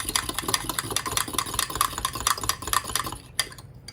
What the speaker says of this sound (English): I'm gonna stir this around.